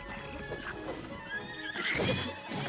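A horse in the video game Zelda: Tears of the Kingdom lets out a loud, clear whinny that rises and falls over in-game ambience and hoof clatter.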